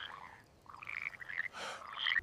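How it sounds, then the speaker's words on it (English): Frogs croak in a chorus of short, raspy calls, several overlapping at close range, with a brief louder hiss-like burst partway through. "Frogs surged forth from the waters."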